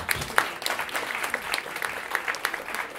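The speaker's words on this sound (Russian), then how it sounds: "Похлопаем, пожалуйста." A concert audience gives a burst of dense hand-clapping applause, steady and fairly close for a few seconds with no voices over it.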